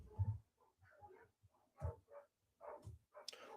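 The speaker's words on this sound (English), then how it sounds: "my dogs are going absolutely insane right now" Dogs outside a house bark in agitated, irregular bursts, faint and distant, with short pauses between yaps and deeper woofs.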